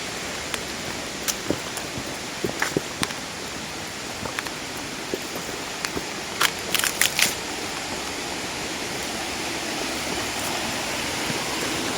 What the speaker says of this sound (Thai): น้ำตกห้วยแก้ว